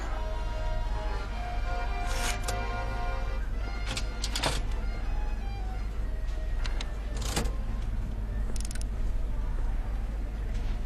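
Stuck gears of a bathysphere winch in a video game, a steady mechanical grinding drone with several sharp metallic clanks and rattles scattered throughout, loud and close.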